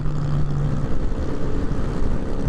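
A steady, rumbling Yamaha MT-09 motorcycle engine drones close by while riding on a highway, its low exhaust note holding constant with no pauses and no voices.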